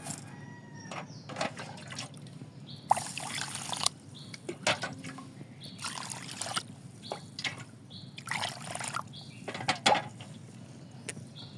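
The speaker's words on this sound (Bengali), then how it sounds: "চালটা দেখেন ভালো মতো একদম ধোয়া শেষ" Thin, fine-grained rice being washed by hand in water for khichuri, with intermittent splashing and sloshing bursts in an irregular rhythm, close and moderately loud, with no talking.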